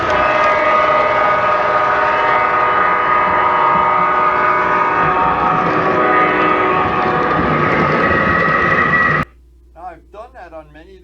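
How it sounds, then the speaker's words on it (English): A model railroad train rumbles steadily as it runs into a tunnel, a dense continuous mechanical drone that holds loud for about nine seconds before cutting off abruptly, leaving brief faint speech afterward. "leave the camera running as the train actually enters the tunnel"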